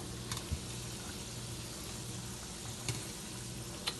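Pakoras deep frying in hot oil give a soft, steady sizzle with faint bubbling, quiet and close, and a few small pops rise above the hiss.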